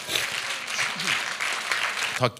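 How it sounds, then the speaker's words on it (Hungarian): A church congregation claps together after a call to applaud during a Hungarian sermon, a dense, steady patter of many hands over about two seconds, with a brief voice or exclamation near the end. "Tapsoljuk meg az Urat!"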